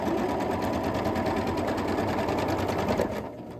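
A sewing machine stitches a quilt block in one fast, continuous mechanical whir, close and loud, with a rapid needle rhythm that slows and stops at the very end.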